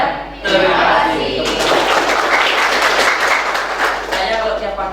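Classroom applause closing a group housekeeping greeting, a loud dense burst of many hands clapping that starts abruptly and holds steady for several seconds.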